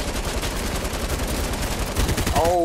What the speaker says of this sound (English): Please fire the gun.